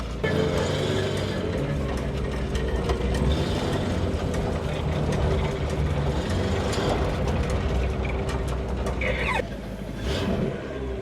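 Chopped 1950 Buick lead sled engine idling rough, a continuous uneven rumble with clattering mechanical ticks, close and loud throughout.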